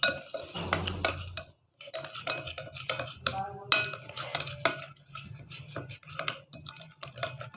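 A spoon stirring spices like turmeric, black pepper and red chilli into a marinade in a bowl, producing quick close clicks and scraping taps in uneven bursts with a brief pause, no speech.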